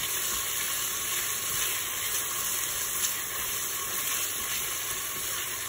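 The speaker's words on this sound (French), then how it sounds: "on va faire rissoler les oignons, bien comme il faut" Onions browning in a Cookeo multicooker for a Tunisian tajine, giving a steady, even sizzle and hiss that stays close and constant throughout, with no talking.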